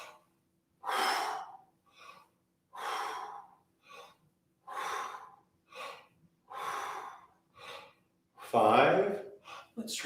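Repeated sharp inhalations and forceful exhalations during a breath-squat vocal warm-up exercise, roughly every second in a steady rhythm, close and fairly loud, with one heavier breath near the end.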